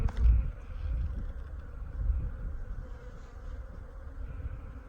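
Honey bees hum and drone around an open hive, a low, steady buzz that swells and fades at close range with occasional nearer passes.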